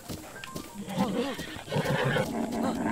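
A horse in The Legend of Zelda: Breath of the Wild whinnies in a short rising and falling neigh, close and moderately loud, while people talk over it.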